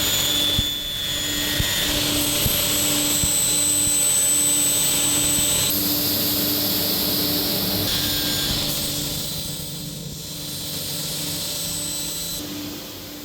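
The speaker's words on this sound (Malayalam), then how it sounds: "ഇനിയും നമുക്ക് ഈ പീസുകളൊന്ന് കട്ട് ചെയ്ത് നോക്കാം." A power saw cuts through laminate board pieces during home interior work, giving a loud, sustained whining roar close by that shifts pitch as the blade bites and then eases off.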